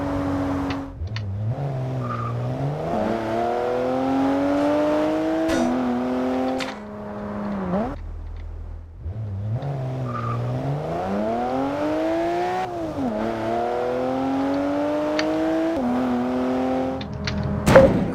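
Video game car engine whining through rising and falling revs as the vehicle accelerates and shifts, with tire squeal and skids, steady and close throughout, briefly dropping out midway.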